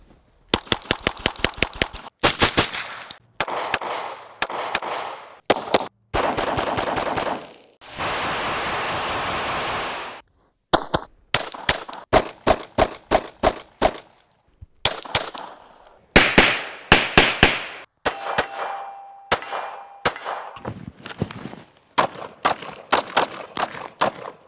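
Pistols fire at a shooting range in rapid strings of sharp, loud cracks, some single and some in quick bursts, with brief pauses between volleys and one sustained rushing blast, close by with no talking.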